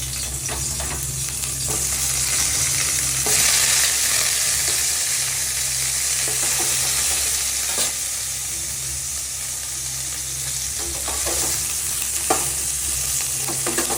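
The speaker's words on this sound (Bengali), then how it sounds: "তেল দিচ্ছি, সরষের তেল দিচ্ছি। একটু ভেজে নেব।" Loud, continuous sizzling of frying in mustard oil in a pan, a dense hiss with occasional stirring scrapes and a low steady hum underneath, no voices.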